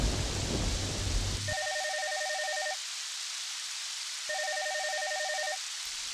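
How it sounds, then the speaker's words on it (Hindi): Heavy monsoon rain hisses steadily for about a second and a half, then stops abruptly as a phone ringtone starts and repeats twice over near silence. No one speaks. "अरे बारिश मतलब सावन आ गया"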